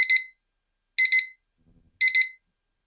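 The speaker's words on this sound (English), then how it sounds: "This one is T2, and it's 2 beeps." A digital kitchen timer chirps in quick double beeps, three pairs spaced about a second apart, bright and close, with a faint low rustle in one gap.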